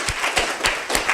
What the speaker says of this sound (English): We should give Paul a round of applause, I think, for that.